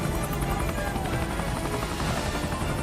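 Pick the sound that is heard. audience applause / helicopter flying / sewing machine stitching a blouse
helicopter flying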